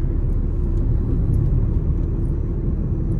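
A car rolling along a road produces a loud, steady low rumble of engine and tire noise from inside the vehicle, with no talking.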